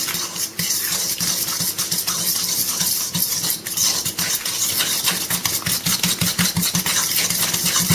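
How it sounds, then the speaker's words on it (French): Blini batter with yeast and two eggs being stirred in a bowl: quick, regular clinks and scrapes repeat steadily over a constant low hum. "Puis mélangez le tout."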